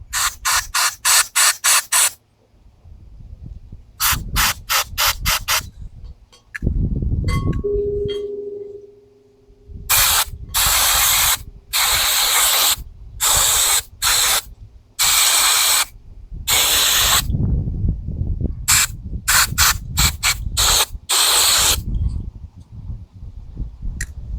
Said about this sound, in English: Then we spray in the fuel inlet.